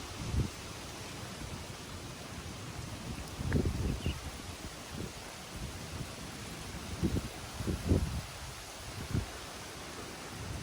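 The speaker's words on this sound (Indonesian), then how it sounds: "Desiran angin sepoi-sepoi membuat udara menjadi sejuk" A gentle breeze moves steadily through an open outdoor campground, a soft broadband rustle with a few slightly louder gusts and some low wind buffeting on the microphone throughout.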